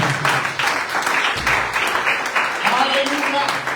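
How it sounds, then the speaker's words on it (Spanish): A church congregation claps loudly and continuously, a dense, even patter of many hands, with voices calling out over the applause. "Denle un fuerte aplauso al Señor."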